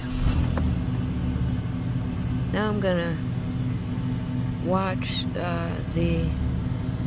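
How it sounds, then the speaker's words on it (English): A 2008 Chevy Impala engine idles with a steady low rumble after its accelerator pedal has been replaced, running continuously while someone talks over it. "Now I can start the car."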